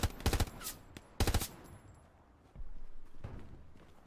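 Gunfire in the WWII shooter game Hell Let Loose comes as two sharp bursts of rapid automatic fire, close and loud, followed by quieter rumbling battlefield noise.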